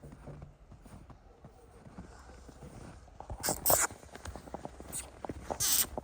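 Hooves of young horses of the Novoaleksandrovsk draft breed, including a foal, clop in scattered steps, getting louder and busier toward the end with a few sharp higher knocks; a voice speaks faintly early on.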